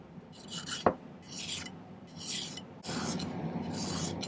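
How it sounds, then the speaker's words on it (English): Metal file rasping on a silver ring setting, smoothing bumpy parts on a bench block: several short close filing strokes in bursts, with a sharp tap early on and a steadier rasp toward the end. "Okay, neaten it up with the file a little bit."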